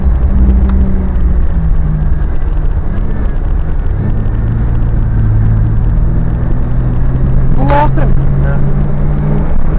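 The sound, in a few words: car accelerating as driver gives gas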